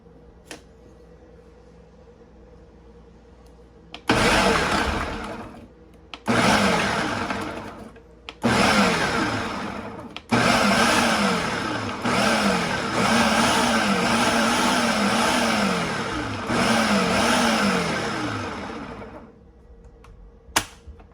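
An electric chopper whirs loudly in repeated bursts as it chops chapli kabab mince with tomatoes, several pulses of a few seconds each separated by short pauses, close and with no talk.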